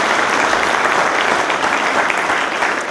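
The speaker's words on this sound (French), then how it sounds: "Vous pouvez les applaudir chaleureusement." Dense, steady applause from an audience filling a hall at a company's general assembly, loud and continuous with no voices over it.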